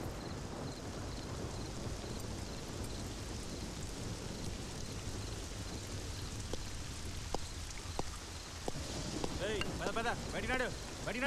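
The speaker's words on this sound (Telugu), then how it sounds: "వర్షం వస్తున్నది సారు." Steady rain falls throughout in a village setting, a dense continuous wash with distant rumbles of thunder, while voices speak over it, growing busier toward the end.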